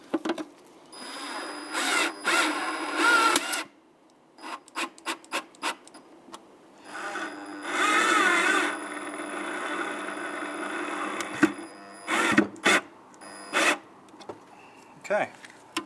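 Screws driven into a parking light lens on a 1992-1996 Ford F-150, heard as several close bursts of power-driver whirring and rubbing, stopping and starting in short runs with pauses between.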